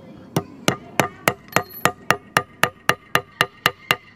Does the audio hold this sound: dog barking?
no